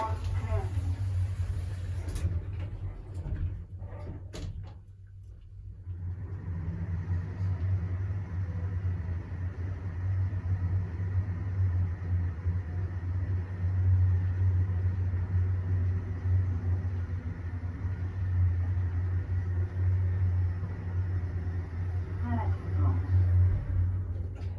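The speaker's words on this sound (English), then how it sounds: "we have got a KONE POWERDISC motor. So let's take it for a ride." A KONE POWERDISC motor lift travels at 0.6 meters per second: a brief clatter gives way to a steady, low rumbling hum inside the car that lasts for the rest of the ride.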